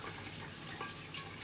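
Water poured from a container for stovetop steaming with aluminium foil, a faint, steady splashing trickle with no voices.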